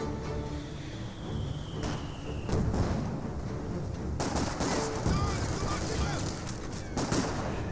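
An MG42 machine gun rattles through sustained bursts in a Company of Heroes 2 battle, mixed with further gunfire and general combat noise. The firing is loud and continuous throughout, and a voice comes in partway.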